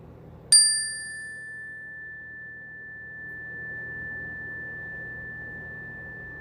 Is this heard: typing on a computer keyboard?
no